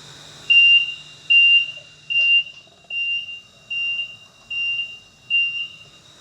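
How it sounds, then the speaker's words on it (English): A train carriage incident alarm on Le Shuttle, a repeating electronic two-tone alarm, sounds in seven evenly spaced bursts, clear and fairly loud over a faint low hum. "Should an incident be detected in your carriage, the following alarm will sound."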